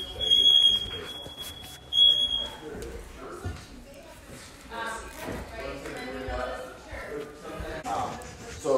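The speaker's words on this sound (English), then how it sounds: "Since they're hardwired, they'll all go off, which is what they're doing." Hardwired smoke detectors in a house go off together, a shrill electronic alarm tone sounding clearly at first, then fading into a busy mix of voices and shuffling noise.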